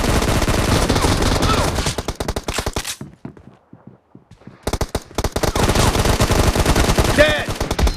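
Rapid bursts of gunfire in the mobile shooter Battlegrounds Mobile India, a team deathmatch, fill the clip loudly, drop to sparse faint shots for about two seconds, then resume as dense continuous firing.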